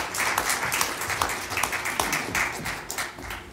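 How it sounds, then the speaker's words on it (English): A high school concert audience applauding performers, a thick wash of many hands clapping at moderate distance, steady and fairly quiet. "Can we give them another round of applause?"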